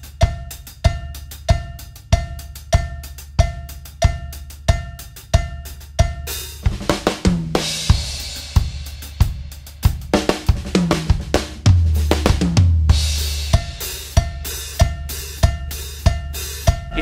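Cumbia drum kit groove with a loud cowbell struck on each downbeat and steady hi-hat filling the rest, broken midway by a busier fill with bass drum and toms before the cowbell pattern returns; no talking.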